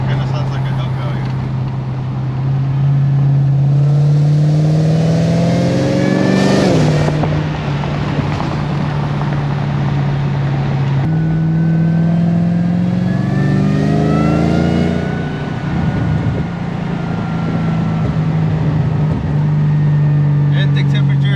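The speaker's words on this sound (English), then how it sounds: "Kinda sounds like a Hellcat." A Jaguar XF engine with a newly installed crank pulley idles steadily with a deep hum, then revs up twice in rising, rumbling surges before settling back to idle.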